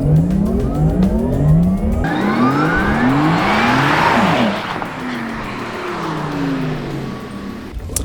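A Porsche Taycan electric car launches hard under launch control, its rising, siren-like electric motor whine sweeping upward in pitch again and again through repeated surges, loud and close, with a tire and road roar beneath.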